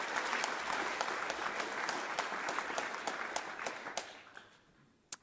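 Audience applause at the Ose Ton Futur 2022 plenary session, a steady wash of many hands clapping that thins out over five seconds, ending in a few scattered last claps.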